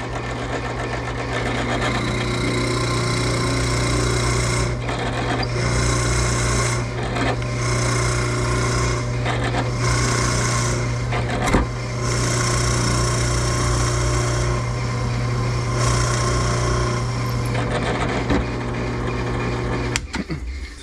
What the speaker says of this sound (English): So we got a fuller plug cutter on the drill press